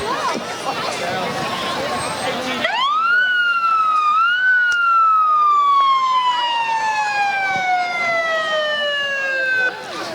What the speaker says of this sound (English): that's a siren you don't want to hear too often